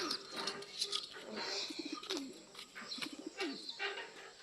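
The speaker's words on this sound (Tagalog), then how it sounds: "Ayun ang mga kalapatids." Pigeons coo nearby in repeated soft, rolling calls, several overlapping phrases with light chirps in between, fairly faint and without talking.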